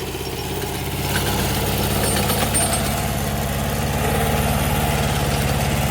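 A tractor engine running in a field during a potato harvest, a loud, steady low rumble that rises slightly after the first second and then holds even and close throughout.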